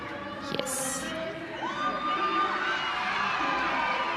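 A crowd cheers at a weightlifting competition finals, a sustained wash of shouting and whooping that swells after a brief lull, heard from within the venue at moderate volume.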